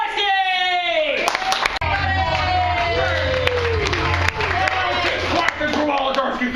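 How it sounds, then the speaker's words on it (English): A studio audience claps and cheers for a comedian on a telethon-style show, a dense steady applause with whoops that runs the whole time beneath a talking host. "Clapping for Wolodarski."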